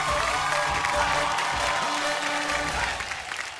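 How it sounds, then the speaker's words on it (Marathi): Steady, dense clapping from a Marathi TV game-show audience, loud throughout and easing slightly near the end, with a few faint cheers and some speech underneath. "आणि 2 नंबरची ताई आहे ती ताई एकदा जोरदार टाळ्या"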